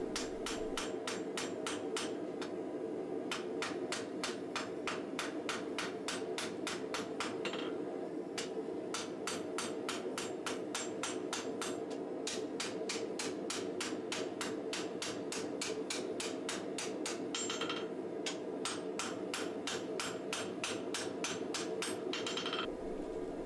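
Steel for a katana sunobe is hand-hammered at the forge in long runs of rapid, evenly spaced ringing blows. Brief pauses break up the sequences as the strikes continue steadily and loudly, with no voices.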